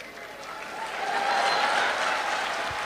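An audience at a church sermon breaks into applause that swells for a moment and then holds as a dense, steady wash of clapping from a large crowd.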